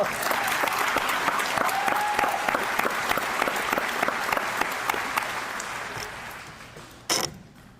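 An audience at a practical nursing graduation ceremony breaks into sustained, close applause that slowly thins out, followed by a brief sharp noise near the end.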